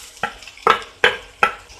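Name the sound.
onions and chillies frying in pan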